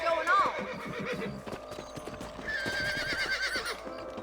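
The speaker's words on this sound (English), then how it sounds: "Let's get back on the horses and see what else is going on." Horses whinny and hooves clip-clop in the video game Red Dead Redemption, a sharp neigh opening over steady galloping hoofbeats, with a voice talking over it.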